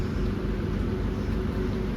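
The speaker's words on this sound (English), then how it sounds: "that's the sound of rain" Rain falling outside at an outdoor vintage market, a steady broadband hiss and low rumble that continues evenly without distinct drops or voices.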